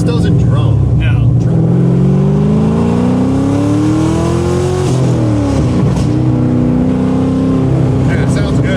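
An LS3 V8 car with an aftermarket exhaust revs loudly and steadily, engine pitch rising then falling, with crackling deceleration pops near the end under talk from people in the car.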